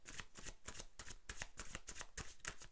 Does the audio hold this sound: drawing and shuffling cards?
yes